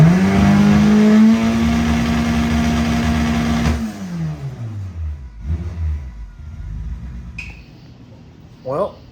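An 800hp Honda Civic holds a loud, steady rev on the two-step, then the engine drops away and idles unevenly with pops and a brief chirp.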